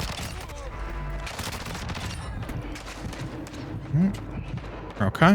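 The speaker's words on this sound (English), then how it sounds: "Who's this one blasting off a shotgun, being real loud?" Gunfire from the Call of Duty DMZ video game, including shotgun blasts, thumps in bursts under a player's talk, with louder shots near the end.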